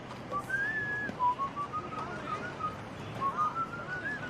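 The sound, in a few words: person whistling a melody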